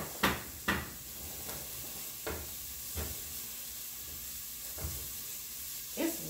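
Onions, carrot and garlic sizzling in olive oil in a soup pot, a steady close hiss broken by several sharp knocks and clatters of utensils or lids at irregular intervals, with no talk.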